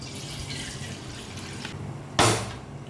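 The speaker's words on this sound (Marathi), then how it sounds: "हे जे वरचं पाणी आहे ते आपण पूर्णपणे काढून घेऊया" Water poured off soaked semolina (rava) in a bowl at home, a sudden splashing gush near the end after low, steady background noise.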